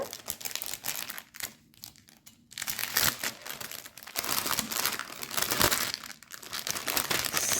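A plastic bag holding embroidery yarn crinkles and rustles continuously at close range during an unboxing, with dense crackling bursts and brief pauses.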